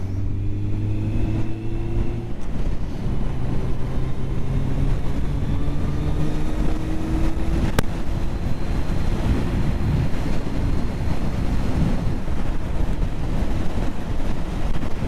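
Wind rushes past on an open, exposed motorbike ride, a loud continuous roar and buffeting over a low engine drone, with no talking.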